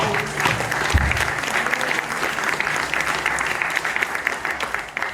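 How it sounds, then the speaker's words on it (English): A crowd at the Hawaii Village of the Polynesian Cultural Center on O'ahu applauds hula dancers with steady, dense clapping that fills the space, with a faint murmur of voices beneath. "How about a round of applause for our dancers?"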